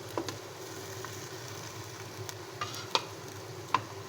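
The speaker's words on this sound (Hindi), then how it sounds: "कीमे को हम अच्छी तरह फ्राई कर देंगे।" Minced meat fries in a pan with a soft, steady sizzle while a spoon stirs it, scraping and clinking lightly against the pan every second or so, close and fairly quiet.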